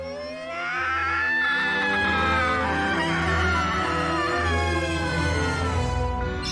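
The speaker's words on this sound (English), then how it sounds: "God, that was quite the death scream." A drawn-out, rising and falling death scream from a character in the tactical role-playing video game Tactics Ogre: Reborn, loud and harmonic over a low game-music drone, lasting several seconds before cutting off.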